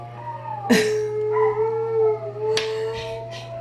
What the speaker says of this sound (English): Hear the dogs howling because of the sirens.